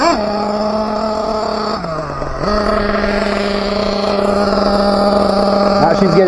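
A Team Associated MGT nitro RC monster truck screams at full throttle close by, holding a loud, steady high-pitched buzz that dips briefly before climbing again.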